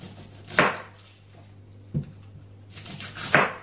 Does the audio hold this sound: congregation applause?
no